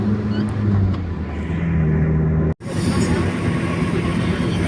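A bus cruising on a concrete toll road of the Trans Sumatra highway, giving a steady loud rumble of engine and tyre noise with a brief dropout midway.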